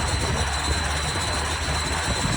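Harsh metallic screeching rattle from the rear of a Mazda Miata fitted with a new exhaust, a loud continuous droning roar with a thin high whine running throughout.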